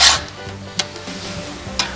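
A file, guided by a Granberg file-n-joint sharpener, rasps across chainsaw chain teeth in short strokes, a harsh scrape at the start, then two brief sharp strokes about a second apart, close and without talk.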